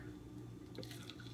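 Hot tap water runs into a kitchen sink to rinse a cheap reusable cup, a soft continuous splash with a few drips, faint and close.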